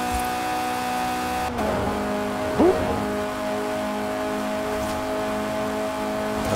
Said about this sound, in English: I'm going to redline it.